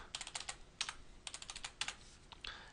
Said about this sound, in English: you would type your fax number and